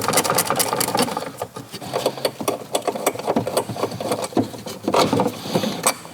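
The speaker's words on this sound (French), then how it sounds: "Donc on va dévisser notre poignée intérieure." The interior door handle of a Ligier JS50, JS60 or MGO microcar is unscrewed up close, with busy whirring and buzzing bursts and small clicks broken by short pauses.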